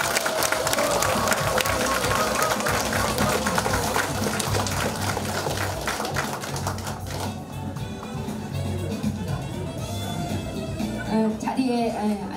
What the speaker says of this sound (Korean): 축하의 박수, 필승의 박수, 큰 박수 다시 한번 부탁드립니다.